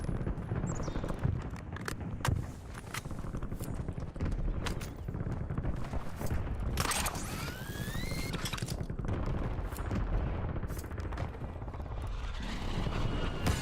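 Gunfire in the Warzone video game: scattered sharp shots punctuate a dense, steady wash of battlefield noise with a rotor-like drone throughout, moderately loud.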